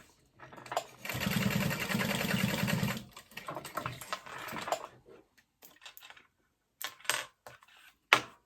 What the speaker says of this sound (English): I'm just going to sew it all together and then trim down